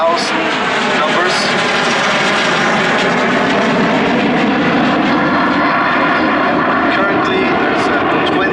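A Lockheed T-33 Shooting Star jet passes at an airshow with a loud, steady, broadband roar that fills the whole stretch, with faint voices underneath.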